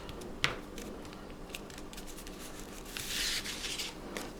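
Small fabric scissors snip lace on a spring-themed craft envelope, a sharp close cut followed by quiet, faint snips and rustling of material on a tabletop.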